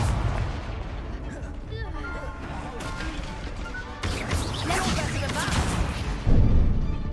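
Confringo spell blasts in the Hogwarts Legacy video game, a run of sharp explosive impacts and crashes with louder hits toward the end, mixed with game voices and spell sounds.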